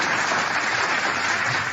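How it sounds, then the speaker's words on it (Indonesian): Dense, loud applause from a crowd at a religious debate, steady clapping filling the whole moment without a break. "tepuk tangan buat Tuhan"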